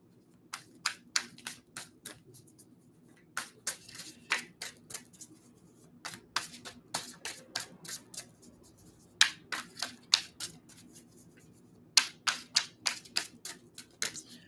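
Tarot cards are shuffled in repeated short bursts of crisp riffling in quick clusters, with brief pauses between rounds, close by and fairly quiet, no talking.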